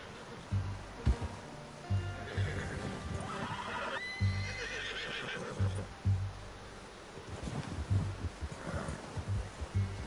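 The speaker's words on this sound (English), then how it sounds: "You should really tether that horse, Arthur." Horse hooves clop in a repeating rhythm with snorting and a whinny, amid rustling outdoor background noise, in Red Dead Redemption 2.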